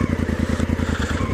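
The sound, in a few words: Honda CRF1000L Africa Twin motorcycle engine, stock exhaust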